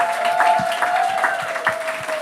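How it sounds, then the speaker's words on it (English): Applause for a poet at a poetry open-mic night, fairly close and loud, with individual claps audible in a quick, uneven rhythm over a faint sustained tone. "But round of applause one more time for Venus"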